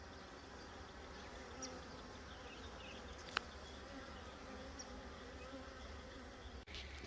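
Honey bees swarm and buzz around an open hive box in a beekeeping yard, a steady dense hum throughout with a couple of faint clicks.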